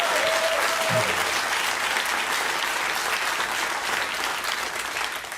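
A studio audience bursts into sustained applause at a talk-show taping, loud and dense from the start and tapering slightly toward the end, with a faint voice briefly at the beginning.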